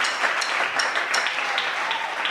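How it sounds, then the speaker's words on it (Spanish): A church congregation in Panama claps loudly and densely, a close, continuous wash of applause with no pause. "Démosle un aplauso al Señor fuerte, por favor."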